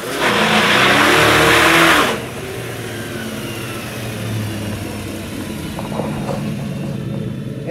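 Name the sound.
1966 Ford Mustang engine running, fan hitting something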